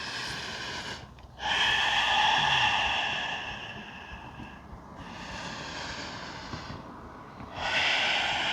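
Deep yoga breathing, slow audible breaths with long airy exhales and inhales separated by short pauses, close to the microphone, with no speech.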